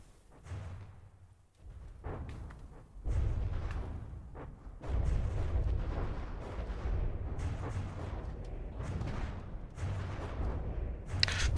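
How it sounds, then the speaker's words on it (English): Secondary guns on warships firing at a ship in a naval video game: repeated booming salvos and muffled blasts rolling in a dense, continuous barrage, loud and steady. "Secondary guns already seem to be focusing on her."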